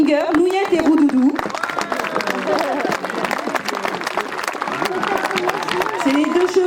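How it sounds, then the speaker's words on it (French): Crowd at an outdoor park show with two Haflinger horses claps and cheers steadily throughout, loud and close, with a voice briefly heard over the start of the applause. "On peut applaudir l'association Les Portes de l'Histoire avec leurs deux Haflingers, Nouillette et Roudoudou."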